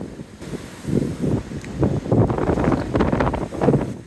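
Storm Isha wind roaring through trees on a wild night of driving rain, a continuous rushing roar that swells and eases in gusts, loud and close with no talking.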